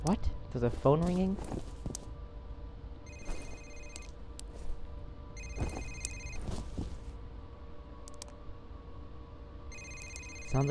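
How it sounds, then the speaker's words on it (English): A telephone rings in the video game F.E.A.R. in repeated bursts of bright trilling tones amid a busy background, with a brief voice and shuffling noises early on. "There's a phone ringing?"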